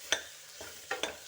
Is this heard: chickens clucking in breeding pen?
no